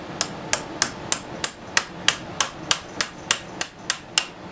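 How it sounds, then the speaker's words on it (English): A hammer strikes a socket to drive a bearing into place, about fourteen sharp metallic taps in an even, steady rhythm, close and alone. "I'm just going to drive it down gently with a socket here."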